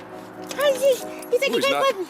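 A pet dog close by gives a series of rising and falling whimpers and short yips in two quick bursts, with no clear barking.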